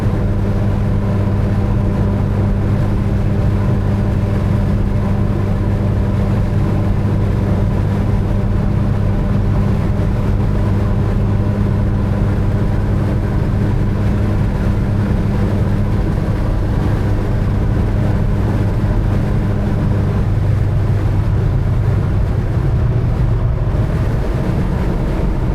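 A 1973 Porsche 914 Targa with a 2.0L engine and manual gearbox cruises along a highway, giving a steady, loud interior drone of engine and road rumble that barely changes over the whole stretch, with no voices.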